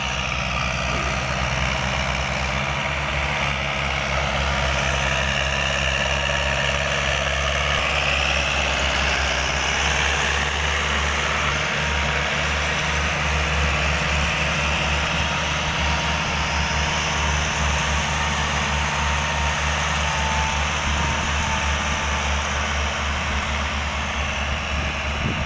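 Heavy tractor engines rumble steadily and loudly for the whole stretch, a continuous droning roar of large vehicles driving past nearby.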